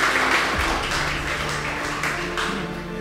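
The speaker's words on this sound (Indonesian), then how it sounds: "Tepuk tangannya dulu semuanya" An audience at a futsal U-20 championship ceremony claps together, a dense continuous wash of applause close by, a voice briefly heard underneath.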